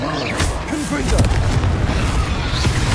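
A Confringo blasting spell explodes in Hogwarts Legacy on PS5, a loud booming burst followed by rumbling debris under a voice shouting spell names.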